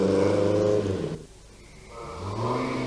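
A rally car at the 1982 Rallye de Portugal pulls away for the first stage near the Sintra Hills, its engine revving loudly up close, dropping off briefly, then climbing again as it accelerates away.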